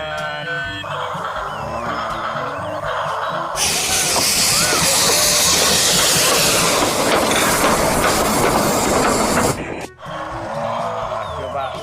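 A toy train runs in a loop around a collection of toy vehicles, giving a loud, steady whirring and rattling hiss for several seconds that cuts off abruptly, with quieter toy sounds before and after.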